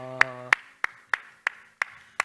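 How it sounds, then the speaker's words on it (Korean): Clapping during a Korean church service: seven sharp, close claps land in a steady, even beat, and the first one overlaps a brief sustained tone. "우리 하나님께 영광의 박수합시다"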